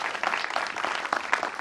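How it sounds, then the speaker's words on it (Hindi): Faint applause at a special screening of the Hindi film Aryabhatt Ka Zero, scattered clapping from an audience in a room, brief and fairly quiet. "एक बार कमल जी और उनके प्रोड्यूसर के लिए जोरदार ताली होनी चाहिए।"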